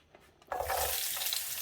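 Onions hit hot oil and set off a sudden, loud, steady sizzle that carries on to the end after a brief quiet start with faint kitchen clatter.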